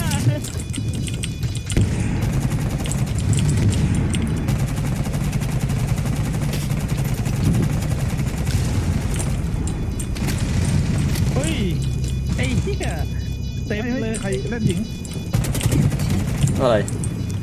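Gunfire from the tactical shooter Rainbow Six Siege, bursts of shots mixed into a dense, busy game soundscape with people talking over it throughout.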